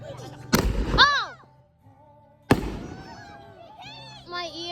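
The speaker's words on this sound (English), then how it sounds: "Hey, mortar!" Fireworks mortar shells bursting outdoors: two loud, close booms about two seconds apart, each followed by a crackling, whistling tail that fades out.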